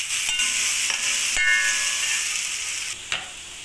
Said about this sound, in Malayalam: നന്നായി വഴറ്റുക.